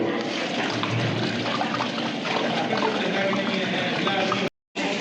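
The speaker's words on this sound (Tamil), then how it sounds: "உலை தண்ணி ஊற்றிக்கலாம்" Water pours steadily into a large pot for Dindigul biryani, a big batch taking about 60 litres, with a loud, dense rushing splash that holds nearly five seconds before cutting off abruptly.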